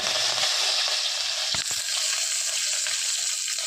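Loud continuous sizzling and crackling of curry leaves dropped into hot oil, close up, with a brief stirring clatter partway through.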